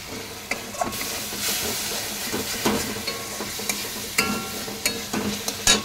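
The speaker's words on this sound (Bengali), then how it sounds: "মশলাটা দিয়ে ভাজা ভাজা করার পরে ভাজা করে নেব।" Spiced vegetables in a pan hiss and sizzle at a moderate level, broken by repeated scraping stirs and clatters from a spatula, with no voices.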